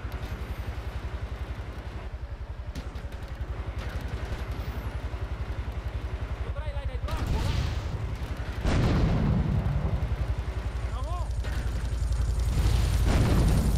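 Gunfire at an enemy vehicle in Grand Theft Auto 3, heavy booming shots and blasts over a constant rumbling engine drone, growing louder toward the end.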